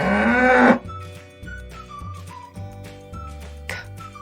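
A cow moos loudly and clearly in a long, harmonic call lasting under a second, followed by soft melodic chimes and a whistle-like tone over a steady low hum.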